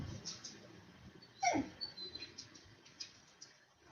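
A dog whimpers with a brief high, rising-then-falling whine at close range, set against quiet indoor background noise with no speech.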